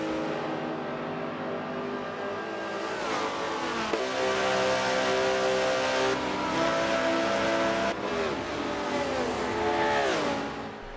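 Race cars in the Forza video game roar up from behind, a dense layered drone of engines rising and falling as they close in and pass, with shifting gear changes and no speech.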